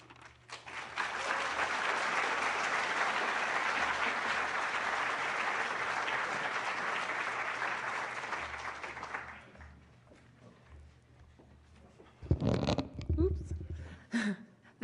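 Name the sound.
audience applause after a speech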